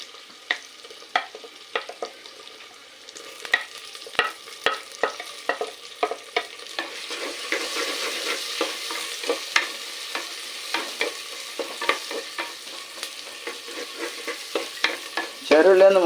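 Garlic and ginger sizzle in hot oil in a pan for a Kerala fish curry, with a spoon stirring and scraping in a steady rhythm of sharp clicks over the frying hiss.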